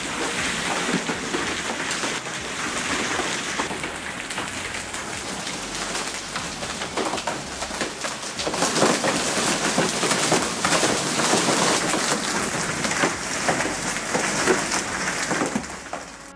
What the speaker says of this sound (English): A parked car helplessly took the full brunt of a violent hailstorm, its hood hammered nonstop